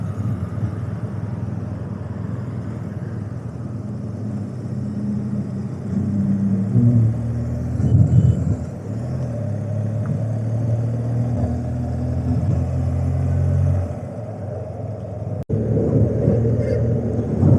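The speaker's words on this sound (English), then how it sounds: "Passing through Bhubaneswar traffic," Steady low engine rumble from a BMW motorcycle riding through Bhubaneswar city traffic, with surrounding vehicle noise swelling and easing, a few passing engine surges, and continuous road drone throughout.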